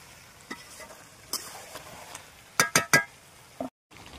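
Potatoes fried with salt and turmeric stirred into browning spiced meat in a pot, soft sizzling under scattered stirs and a quick run of three sharp clinks of utensil on metal, fairly quiet and close.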